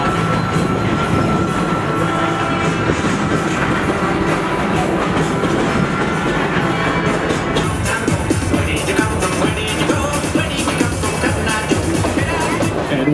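Loud continuous rumble and clatter of a small amusement park train at Kings Island riding along its track, wheels rattling steadily throughout with no pauses.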